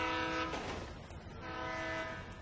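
A train in the video game Grand Theft Auto 5 sounds its horn in two long blasts over a steady rumble of rolling wheels.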